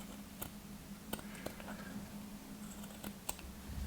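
Scissors snip through knitted fabric between two stitch lines while steeking a hand-knit piece, giving a scattering of sharp, quiet clicks and crunches at irregular intervals over a low background hum.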